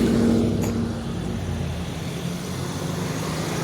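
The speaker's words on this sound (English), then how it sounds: "And there's one car behind me, so I'm going to have to leave them guys go." A car passes close on a city street, its engine and tyre roar loudest at the start and then fading into a steady traffic rumble over the remaining seconds.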